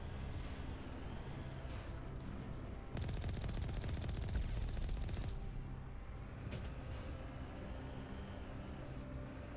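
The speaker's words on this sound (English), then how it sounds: "You guys are shooting at me." Sustained automatic gunfire in Mass Effect Legendary Edition, a dense rattling burst in the middle amid steady loud combat noise and rumbling, with no talk.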